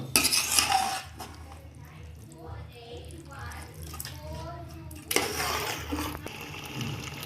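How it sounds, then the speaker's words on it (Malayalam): Chicken pieces stirred into a spice masala in a pot for Andhra chicken biryani, giving repeated scraping and clinking of a spoon against metal, moderately close, with louder bursts near the start and again after five seconds. "ഇനി നല്ലതുപോലെ നമ്മൾ ഇറച്ചി ഈ മസാലയ്ക്കകത്തിട്ട് ഇളക്കി യോജിപ്പിക്കുക."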